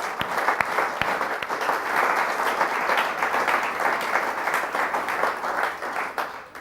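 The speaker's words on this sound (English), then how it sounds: "So I think a massive round of applause to the IPA team." A room of attendees at closing remarks on new remuneration gives a big round of applause: dense, fairly loud clapping from many hands, with a few sharp individual claps near the start, holding steady before it starts to taper.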